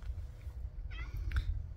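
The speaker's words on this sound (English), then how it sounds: "you might hear him meowing in the background." A cat meowing in the background outdoors, two faint short meows over steady low rumbling ambient noise.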